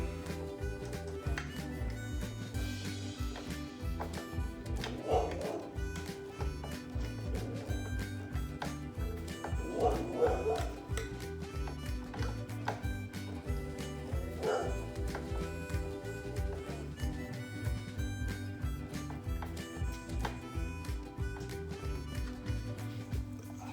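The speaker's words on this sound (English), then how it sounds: "the neighbor dogs are out. They tend to like to bark anytime we're outside" Neighbor dogs bark repeatedly at a distance, several bursts spread out over a steady background of music-like tones and hum.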